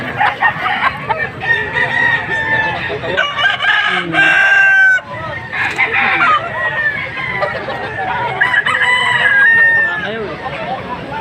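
Young gamecock stags crow repeatedly at a busy rooster market, loud and close, with other chickens clucking and a low babble of people around them.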